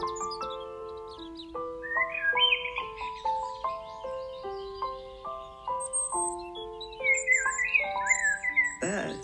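Birds call back and forth in a lively run of clear whistled and squawking notes, stepping up and down in pitch. The calls are close and steady, with chirps layered over them and no talk.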